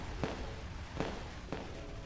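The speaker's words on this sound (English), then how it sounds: "Look at these fireworks everywhere." Firework launcher shots in the Roblox game Arsenal go off as three separate sharp pops at uneven intervals over a steady, dense game background.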